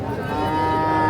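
A Holstein Friesian cow moos at a cattle market, one close, loud and sustained low call that swells slightly toward the end.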